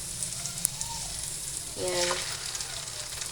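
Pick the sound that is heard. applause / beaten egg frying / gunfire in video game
beaten egg frying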